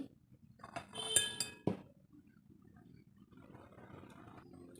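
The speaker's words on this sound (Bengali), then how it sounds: "এখন একটা আমি চালনি দিয়ে দেব চালনিতে এক বাটি নিয়ে নেব ময়দা ময়দাটা দিয়ে সেলে নিচ্ছি" Flour is sifted through a sieve into a bowl: a brief cluster of bright metallic clinks and taps up front, then a faint, soft rustling that continues quietly.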